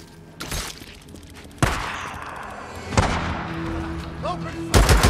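Gunfire in the Days Gone video game, a few sharp loud shots spaced roughly a second apart over game ambience and background noise.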